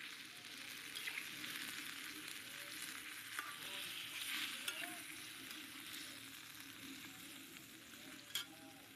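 Boal fish frying in hot oil, a continuous bright sizzle with occasional spits and pops, close and steady throughout with no voices.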